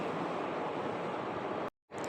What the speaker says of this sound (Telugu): వాటర్ తీసుకొని పచ్చిమిర్చిని బాగా క్లీన్ చేసేసుకుందాం